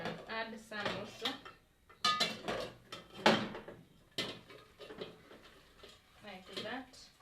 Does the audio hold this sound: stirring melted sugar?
yes